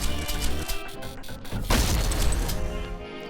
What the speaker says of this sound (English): Core eject from the blue shotgun variant, the overcharge pump from the green variant of the shotgun.